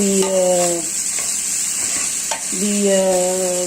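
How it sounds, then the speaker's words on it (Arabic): Rice sautéed with ghee in a pan, sizzling loudly and close up while a spoon stirs it in steady scraping strokes. "هنشوحه بقى كده، نفضل نشوح مع بعض كده"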